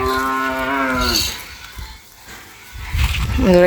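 A man imitates a calf's bleating call near the start and again at the end, and a cow answers with a close, drawn-out moo during the gap between his calls.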